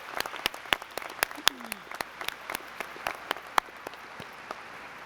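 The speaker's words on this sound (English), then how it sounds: "Let's give everyone a round of applause." At a College of Fine Arts spring commencement ceremony, scattered individual claps ring out from the audience. The sharp, separate hand claps are sparse and irregular rather than a full ovation, and the crowd is otherwise fairly quiet.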